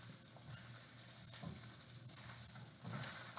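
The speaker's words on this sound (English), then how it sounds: "you want the pepper to get soft. That's kind of how you saute it up." Shishito peppers sautéing in a pan, a quiet steady sizzle and fry with soft stirring scrapes and small pops, no voices.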